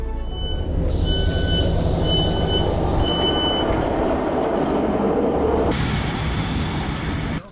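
A train waits at a station on the Heart of Wales Line at Craven Arms, its steady loud engine rumble filling the platform while repeated high warning beeps sound over it.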